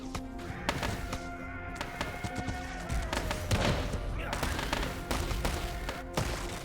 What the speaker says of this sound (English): the cannons in the back are pounding